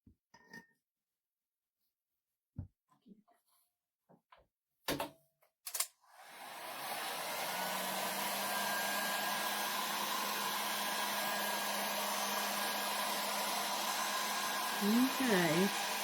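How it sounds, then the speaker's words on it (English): A hair dryer blows steadily for about ten seconds, drying Mod Podge on a wooden cutting board, after a few scattered clicks and thumps; the loud, even whoosh runs alone near the mic. "I put my Mod Podge on it, and now I'm drying it"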